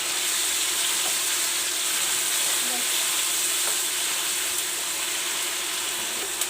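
Ginger, green chili and tomato paste sizzle steadily in a frying pan, a continuous close hiss and crackle of frying that holds at an even level throughout with no talk over it.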